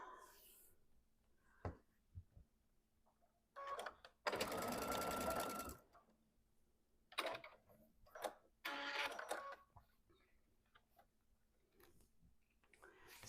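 A sewing machine stitches fabric strips onto twine for a rope bowl, running in short close bursts of rapid mechanical whirring with one longer loud run, separated by quiet pauses.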